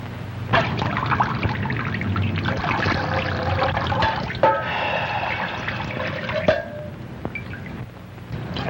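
Water pours and trickles steadily into a container in a 1940 East Side Kids comedy scene, a continuous liquid stream with small splashes and drips, close and moderately loud, with no talking.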